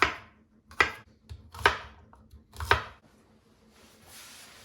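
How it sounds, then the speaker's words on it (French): Knife slicing asparagus into small rounds on a cutting board, four crisp, separate chops spaced nearly a second apart, close and clear, then a soft scraping hiss as the pieces are moved aside. "je vais couper les asperges en petites rondelles et réserver la tête"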